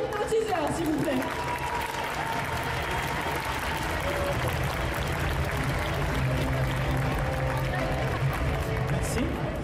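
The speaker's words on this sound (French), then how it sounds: "je vais vous demander un tonnerre d'applaudissements pour l'œil de l'hypnotiseur" Sustained, loud audience applause fills a live indoor show where an hypnotist performs, mixed with crowd noise and cheering throughout.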